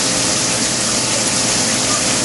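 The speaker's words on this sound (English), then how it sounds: "Coolant flow out of the downspout was more than this when it was a single nozzle pour." Coolant gushes from the drain downspout of a Tormach PCNC 1100 mill in a loud, continuous, steady roar of pouring liquid, like a close pump or waterfall, with no pauses and no voices.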